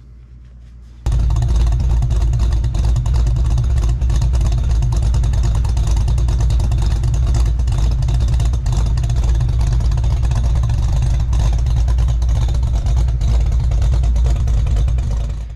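A barn-find Fox-body Mustang with an aftermarket camshaft and headers on a stock long block kicks in after a second of quiet, then its exhaust rumbles loud and close in a steady, choppy idle that runs unbroken to the end.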